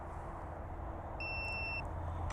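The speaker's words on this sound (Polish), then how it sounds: "Jest sygnał z baterii" A single clear electronic beep, a steady high tone lasting about half a second, sounds from the battery of electric pruning shears over quiet background noise.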